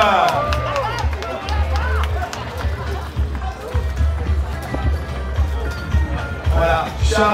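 Spectators applaud and cheer at the finish of the Maxi Edmond de Rothschild sailing race, with dense clapping and crowd noise running throughout, loud and close, while a commentator talks over it.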